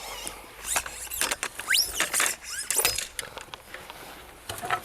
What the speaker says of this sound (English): We undo the fastex.